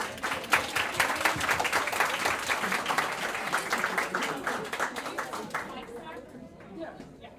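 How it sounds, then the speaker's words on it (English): Crowd clapping for the winners of a civic challenge competition, lively applause with scattered chatter that gradually thins out and fades near the end. "Big round of applause for everyone."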